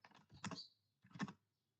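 Two quick bursts of computer keyboard typing while entering Java code, soft clustered keystrokes with a short gap between them, close and quiet.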